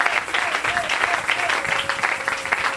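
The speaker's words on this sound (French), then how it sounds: "Est-ce qu'on peut acclamer pour le Seigneur Jésus?" A church congregation at a fasting and prayer service claps and cheers for Jesus in a dense, steady burst of applause, with a voice sounding over the clapping.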